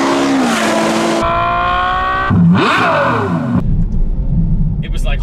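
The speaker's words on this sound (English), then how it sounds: "But it wasn't until I heard an F12 with an aftermarket exhaust" A Ferrari F12 V12 with an aftermarket exhaust revs hard in several loud, rising and falling bursts that shift pitch like gear changes, close and dominant throughout.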